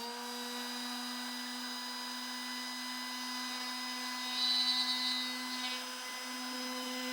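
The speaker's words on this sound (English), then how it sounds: "I'm going to be using the same router bit to find the absolute middle point for" A router spins a router bit with a steady, even high-pitched whine, fairly faint and unbroken, with a slight rise in tone partway through.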